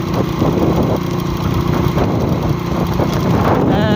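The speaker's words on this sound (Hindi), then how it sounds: "ये मोटरसाइकिल है मोटरसाइकिल" An overloaded motorcycle's engine runs steadily and loudly at close range, a constant rough mid-pitched drone with vibration throughout, no talk heard.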